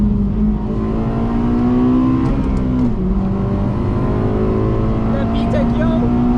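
A 2008 Honda Civic Si with a K20 engine revs hard toward VTEC, a loud steady engine drone with a rising pitch sweep midway, heard from inside the car with voices in the background.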